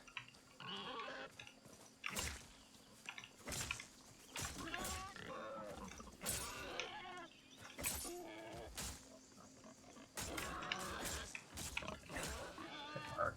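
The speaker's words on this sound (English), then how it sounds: "Another brief freeze, and I hear pig noises." Pigs in the video game Nightingale grunt and squeal in repeated bursts over a game soundscape, some calls close and loud, others softer, scattered irregularly through the stretch.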